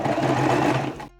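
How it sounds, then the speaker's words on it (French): A sewing machine stitches the lining of a fabric pouch in one short, close, steady burst of rapid needle whirring that stops abruptly. "Donc je vais coudre les côtés et le bas à 1 cm en laissant une ouverture en bas de 5 cm à peu près."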